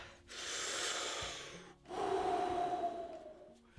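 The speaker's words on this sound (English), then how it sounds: "Take a deep breath." One deep breath taken close by, a sharp airy inhale followed after a short pause by a long, audible exhale, with no speech.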